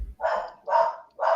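Three loud, close dog barks sound at a steady pace, each a short clear bark with a brief gap between, and no talking.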